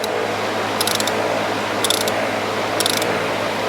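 A ratchet wrench tightening a stripped bolt on a motorcycle case gives three short bursts of rapid clicking, close and clear over a low background hum.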